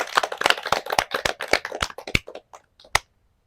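A small group applauding before a village quiz event starts, a brief burst of close, sparse hand claps that thins out into a few scattered claps and ends with one last clap.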